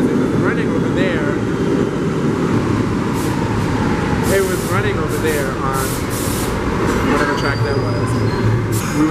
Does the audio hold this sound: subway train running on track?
yes